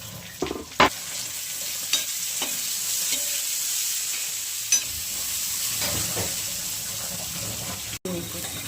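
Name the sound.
cashews and half tomato frying in pan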